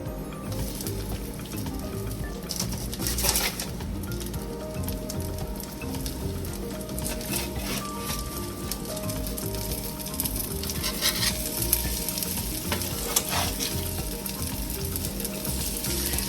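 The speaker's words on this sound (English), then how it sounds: "we're just going to take them out and get them into our hot oil." Panko-crusted salmon patties frying in hot oil in a cast iron skillet, a steady dense sizzle and crackle that continues throughout with occasional sharper pops.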